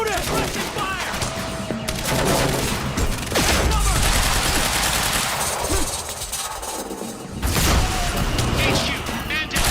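Rapid bursts of gunfire and automatic weapon fire crackle through a firefight in the video game Quantum Break, with loud clustered shots and impacts over urgent shouting voices.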